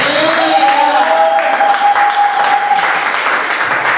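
A church congregation claps loudly and steadily throughout, a dense wash of applause with a sustained high tone running under it for most of the stretch.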